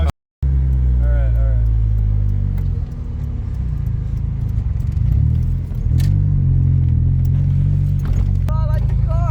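A Mazda Miata engine hums and rises in a couple of revs close by during a casual cruise, with people chatting over the steady motor rumble.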